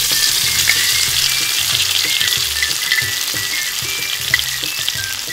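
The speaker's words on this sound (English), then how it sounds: "Stir fry garlic and onions." Garlic and onions stir-frying in hot cooking oil for a miniature seafood dish, a steady loud sizzle with light scraping stir strokes throughout and no talking.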